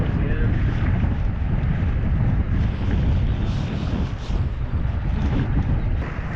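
Constant gusting wind roars against the microphone over a low rumble of a float boat moving on the Snake River, loud and unbroken throughout.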